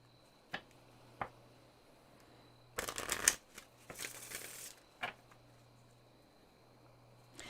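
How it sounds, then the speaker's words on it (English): A deck of Psycards being shuffled close up: a few light taps, then a dense riffling burst of cards followed by softer shuffling and a couple of final taps in a quiet room. "let's have a shuffle of the Psycards"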